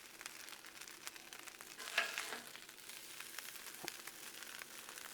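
Potatoes and chorizo for a breakfast hash sizzle on a Blackstone griddle, a quiet, even frying hiss with one brief louder burst as food is added, plus a faint scrape near the end.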